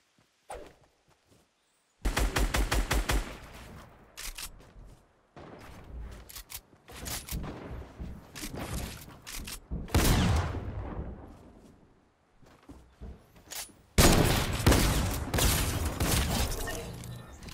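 Gunfire in the video game Fortnite: bursts of rapid shots in clusters, loud and close, with pauses between volleys and no talk.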